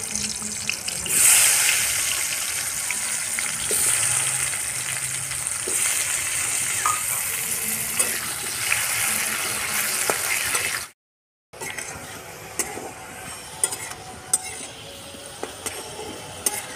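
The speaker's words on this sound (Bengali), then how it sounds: "আলুটা ভেজে নেব।" Potatoes frying in white oil in a kadai, a steady close crackling sizzle with occasional stirring scrapes, cutting out briefly near the end before the sizzle resumes.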